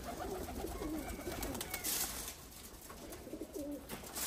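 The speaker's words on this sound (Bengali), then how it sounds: "কবুতরটা উড়ে উঠছে কিন্তু, এই যে ওখানে বসলো" A trained pigeon coos in repeated low throaty phrases over steady outdoor background noise, with a brief burst of broadband flutter near the middle that could be wing flaps.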